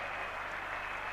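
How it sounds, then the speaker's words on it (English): A cricket crowd at an Ashes Test roars and applauds in a dense, continuous wash of cheering after a wicket falls, steady and loud throughout. "the crowd has gone noisily berserk"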